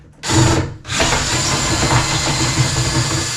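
A power drill whirs steadily while removing screws from a Kenmore washing machine door panel, pausing briefly after a short first burst, then running continuously at close range.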